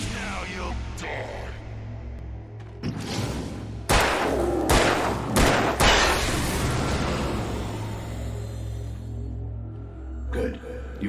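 Several sharp gunshots crack out in the Alan Wake video game, a loose cluster of loud, spaced blasts around the middle, followed by quieter reports near the end over a low droning background.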